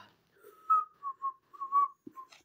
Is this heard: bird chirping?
no